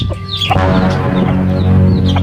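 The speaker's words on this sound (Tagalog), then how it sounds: "Ito naman ako mga manok." Chickens cluck loudly up close, several birds calling at once over a steady low hum in the background.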